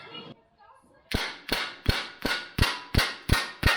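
Hammer blows flatten a closed tuck to shrink sheet metal during a custom gas door relocation on a 1963 Mercury. After a brief quiet, eight loud, sharp, evenly spaced metallic strikes ring out close by.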